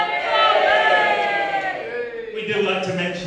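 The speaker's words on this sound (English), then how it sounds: "Big cheer, everybody!" A live audience lets out a big sustained cheer, a dense wash of many voices shouting together, loud and close, fading slightly toward the end.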